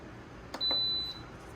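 A multicooker's control panel gives a short electronic beep as its timer button is pressed while setting a meat and stew program for pork ragu, a single clean tone heard alone over faint kitchen background.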